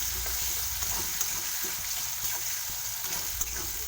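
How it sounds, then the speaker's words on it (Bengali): Potatoes and other vegetables sizzle and fry steadily in a hot pan, with occasional scraping clicks of a utensil stirring them, close up and continuous. "এরপরে এক এক করে সব সবজি এর মধ্যে দিয়ে ভাজা করবো।"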